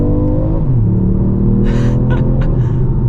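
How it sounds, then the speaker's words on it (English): A 2025 Ford Puma ST with Handling Pack accelerating hard in second gear, its engine note rising steadily from a low rumble into a loud, close revving drone, with brief hissing bursts over it. "I'm going to slow it down a little bit, stick it into seconds and go."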